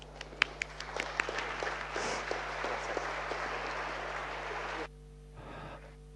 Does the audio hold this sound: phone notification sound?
no